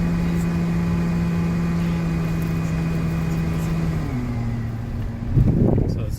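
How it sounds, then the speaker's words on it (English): Air conditioning fan in a 2018 Honda Pilot cabin blows with a loud, steady whooshing hum and tonal drone that drops in pitch as the setting changes, followed by a brief rustle near the end; no talking. "So the higher the fan, the louder it is for the rear settings."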